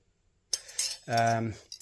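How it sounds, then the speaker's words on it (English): A set of metal silverware clinks and rattles as it is handled, a few quick close scrapes and jingles followed by a brief ringing clatter, with no speech. "Just a nice set of silverware."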